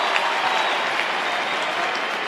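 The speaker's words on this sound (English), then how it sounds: "Listen to the crowd reaction." Stadium crowd at an AFL match between Fremantle and St Kilda reacts with steady applause and murmuring, a moderately loud, even wash of clapping and voices from a large audience.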